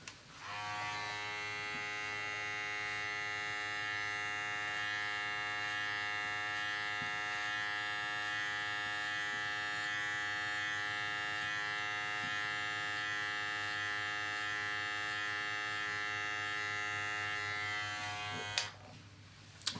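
Electric hair clippers buzzing steadily and close while cutting a drop fade, a continuous even drone held for nearly twenty seconds before stopping, with no talking.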